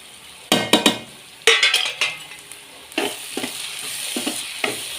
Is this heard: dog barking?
no